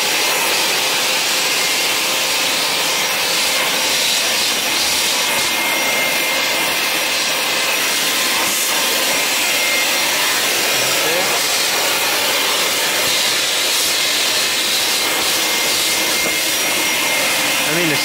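A wall-mounted garage vacuum cleaner runs continuously with a loud, steady whooshing roar of suction that holds even throughout, with no voices over it.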